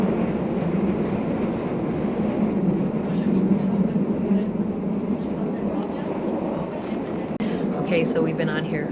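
A luxurious old train rolls along the rails with a steady, loud low rumble and clatter that carries on throughout, while people speak over it.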